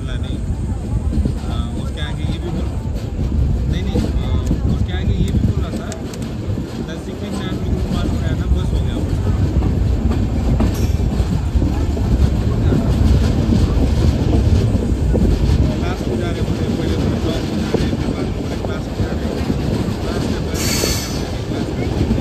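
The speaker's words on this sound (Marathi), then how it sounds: "मुंबई चेन्नई एक्सप्रेस आपल्याला क्रॉस करून जात आहे." The Mumbai–Chennai Express rumbles past close by at Parewadi railway station with a loud, continuous roar of wagons, clattering wheels and squeals, and a voice talks over it.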